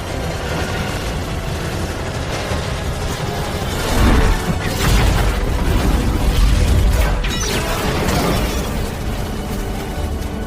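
A dense, roaring blast of noise with a heavier boom swelling around the middle, like an explosion amid churning machinery and rushing water, as an explosion stops a cruise ship's propeller.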